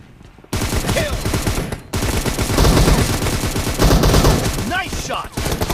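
Rapid bursts of automatic gunfire crack loudly in the video game PUBG, a 4vs4 match, with sustained volleys filling most of the clip and a brief pause near the start.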